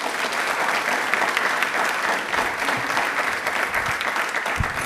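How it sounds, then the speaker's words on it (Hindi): Loud, sustained applause from a studio audience at a televised railway-themed quiz programme, dense even clapping filling the whole stretch with no talk over it. "प्लीज़ एक बार वापस से जोरदार तालियां"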